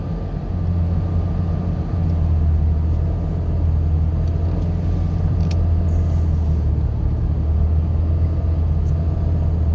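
A truck driving on a road during a snow storm, heading toward forest falls: a steady, loud low engine and tire rumble runs unbroken throughout with no voices.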